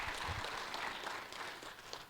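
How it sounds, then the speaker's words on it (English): A convention crowd at a lawn care business event claps for themselves, a soft, fairly distant wash of applause that tapers slightly toward the end. "Applaud yourselves for being here."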